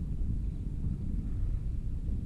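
Strong wind blows across a rice field twelve days after sowing, a steady low rumbling buffet with gusty microphone noise and no voices.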